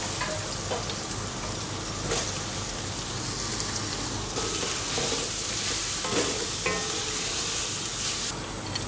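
Carrots stir-fry in a hot pan for a Chinese sizzling dish, with a dense, constant hiss of frying and occasional soft scrapes and taps from stirring, close and even throughout.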